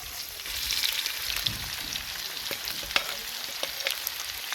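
Onions fry in leftover oil in a pan, giving a continuous soft sizzle with scattered pops and crackles, fairly quiet and close.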